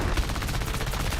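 Rapid aircraft machine-gun fire from a propeller fighter in a flight combat video game, a dense, continuous stream of loud rattling bursts filling the short moment with no pause.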